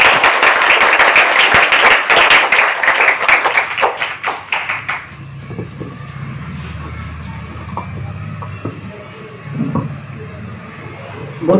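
An audience claps to welcome the DSO madam at a karate event in Kurukshetra, loud dense applause for about five seconds that thins into scattered claps and low room noise.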